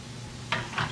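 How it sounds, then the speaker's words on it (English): Food sizzles in a pan with a steady hiss, then brief bursts of louder crackling as something is stirred or added. "Look at that sizzle"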